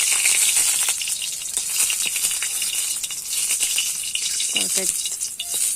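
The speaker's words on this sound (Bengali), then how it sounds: "এবার তেল দিয়েছি কড়াইতে। কটা শুকনো লঙ্কা ভেজে নেব" Dried red chillies fry in hot oil in a kadai, giving a steady bright sizzle and crackle with a few sharper pops, close and continuous throughout.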